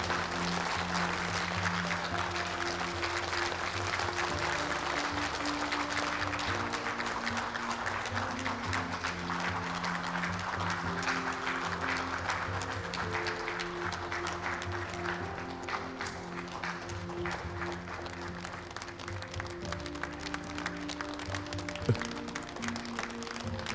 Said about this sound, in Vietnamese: hãy cho một tràng pháo tay thật nồng nhiệt hoan nghênh cô dâu chú rể